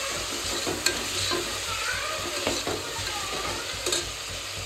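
Ingredients for chicken biryani sauté in a pan, giving a continuous close sizzle with a few sharp scraping stirs and clinks of the spoon against the pan.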